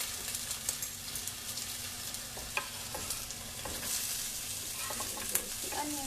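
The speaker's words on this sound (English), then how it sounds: "Now I'm adding ginger" Ginger and onion going into hot oil with already golden garlic, a soft steady sizzle and frying hiss with occasional stirring clicks and scrapes, faint and close in a cooking class kitchen.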